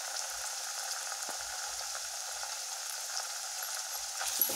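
Spice paste sautéing with onion that has already browned reddish in a pan for a spicy sprouted matki curry, giving a steady, soft, even sizzle throughout with a few faint clicks and no talk.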